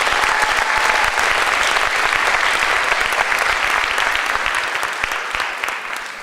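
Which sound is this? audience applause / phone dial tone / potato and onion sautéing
audience applause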